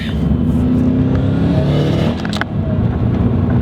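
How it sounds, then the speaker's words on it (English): A tuned 2005 Subaru STI with IAG engine work pulls hard in third gear, its engine drone rising steadily and loud from inside the car, with no talking over it. "That 3rd gear pull in this car is definitely the magic gear."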